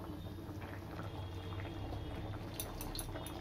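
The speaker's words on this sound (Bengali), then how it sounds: "এবার আমি এটা চাপা দিয়ে সিদ্ধ করে নেব আলুটা।" Potatoes simmering in a covered pan give a steady, low bubbling boil, fairly quiet and even throughout, with a few brighter spits near the end.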